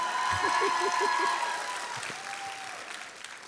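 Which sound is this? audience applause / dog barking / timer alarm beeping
audience applause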